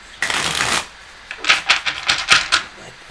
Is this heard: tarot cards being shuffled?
yes